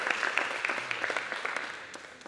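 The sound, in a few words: applause for the Lord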